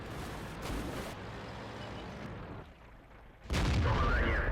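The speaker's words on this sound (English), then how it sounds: "we failed to penetrate his tank even with our premium round" T-44-85 tank cannon firing in World of Tanks, two heavy booming shots about three seconds apart, the second louder and followed by rumbling engine noise.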